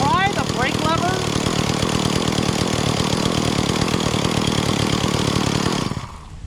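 An Echo CS-400 40cc gas chainsaw with a seized centrifugal clutch runs steadily at a loud, buzzing idle, then cuts off abruptly near the end, with brief speech underneath.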